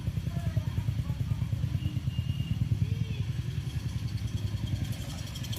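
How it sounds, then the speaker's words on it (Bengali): A motorcycle engine with a mechanical problem runs steadily nearby, giving a rapid, rough, clattering low thrum at an even idle pace throughout. "দেখেন এর একটা প্রবলেম রয়েছে ইঞ্জিনটায়"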